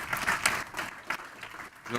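An audience at a Google Drive for Work business event applauds a guest joining the presenter on stage. The clapping is brief and moderately loud, with a voice heard over part of it.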